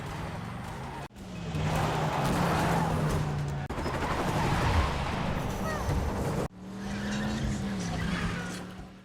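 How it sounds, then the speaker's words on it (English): A car races at high speed against traffic in a film chase scene, loud engine roar with tire squeal and skidding, broken by abrupt cuts between shots, with a voice partly mixed in. "forcing Johnny to drive against traffic just to catch up."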